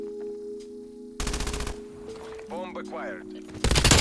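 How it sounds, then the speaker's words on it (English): An MG82 light machine gun in Black Ops Cold War fires two rapid, loud bursts of automatic shots, the second cut short, with a game voice announcement and a brief electronic sweep between them. "the new MG82 LMG was added to Black Ops Cold War"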